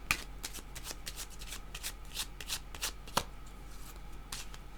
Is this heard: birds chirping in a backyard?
no